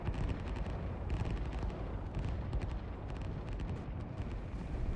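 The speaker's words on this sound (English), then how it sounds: "Rocket is getting launched." A rocket launching in the strategy video game Line War, a dense, continuous low roar with crackling bursts layered on top, loud and sustained throughout with no talking.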